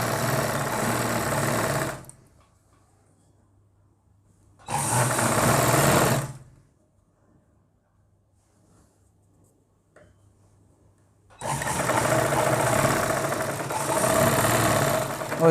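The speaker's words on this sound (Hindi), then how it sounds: "तो चलिए मशीन पे और आपको सिलाई लगा के दिखाते हैं" Sewing machine running a seam on an umbrella-style palazzo trouser, heard in three loud bursts of steady whirring stitching separated by quiet pauses, with the last burst running longest.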